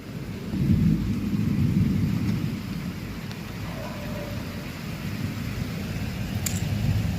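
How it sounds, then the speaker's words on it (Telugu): Steady rain falls over a low rumbling thunderstorm in Warangal, after strong wind, with a continuous wash of noise throughout. "వర్షం పడుతుంది, సంతోషపడాలో."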